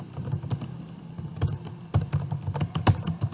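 Computer keyboard keys clatter as a prompt for ChatGPT is typed, a steady run of close, quick taps with small bursts and pauses.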